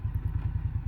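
An Indian Scout Bobber Twenty's V-twin engine chugs at a low, steady, loping pulse while cruising, a brief continuous rumble with no voices.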